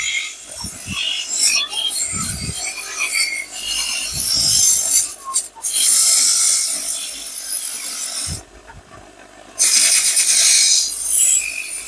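A polishing machine grinds at a dokra brass figure to strip off leftover clay in a brass-casting village workshop, loud rasping bursts that rise and cut out several times, with short gaps between passes.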